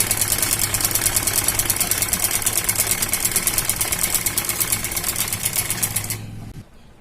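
A sewing machine stitches over a folded fabric strip, running in one continuous fast whirring buzz with dense needle ticking, close and loud, then stopping abruptly near the end.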